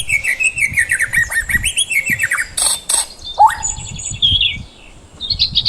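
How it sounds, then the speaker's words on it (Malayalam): Several birds chirp and tweet in quick, varied bursts, with overlapping high calls and a few sharp upward notes, close and fairly loud throughout. "പക്ഷികളുടെ പൊതുവായ ശബ്ദത്തിന് ചേർപ്പ് എന്നാണ് പറയുന്നത്,"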